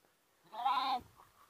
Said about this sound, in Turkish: Bu arada kuzucuklarımız da burada. Gölgeye aldım onları bizim zeytin ağacımızın altına.